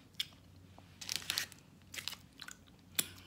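Crunchy Spanish chocolate snack being chewed up close, with several sharp crisp crunches in irregular bursts between quieter pauses, heard alone with no talking.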